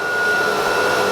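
The vacuum table on a CNC router runs its suction, a steady loud whooshing hum with a constant whine, alone and close with no talking.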